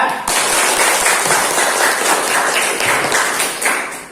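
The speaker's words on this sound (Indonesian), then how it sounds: "tepuk tangan untuk kelompok 2" A classroom group applauds a presenting student group during a lesson, a dense, steady patter of many hands clapping at close range that holds for several seconds before tapering slightly.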